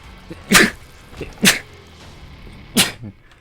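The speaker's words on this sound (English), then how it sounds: "I think I'm gonna sneeze." Sneezes burst out in sharp bursts, three of them spaced about a second apart, close and fairly loud with brief quiet between, during gameplay of The Binding of Isaac: Afterbirth.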